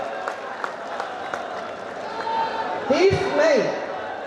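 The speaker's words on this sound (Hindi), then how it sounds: "सब लोग दोनों हाथ ताली बजा करके उनको एक दफा याद करें" A crowd claps steadily at a political rally in India, sustained applause running throughout while someone speaks in Hindi over it.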